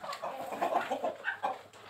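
Chickens cluck softly in a coop, a short burst of several overlapping clucks and murmurs heard fairly faint and close, without talk.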